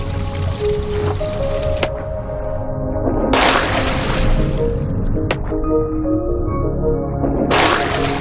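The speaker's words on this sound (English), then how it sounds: "how sounds begin to feel to one that's underwater" Muffled, watery underwater ambience from the video game Gris, with bursts of bubbling, pouring liquid rising and falling over soft tonal drones and a few sharp clicks.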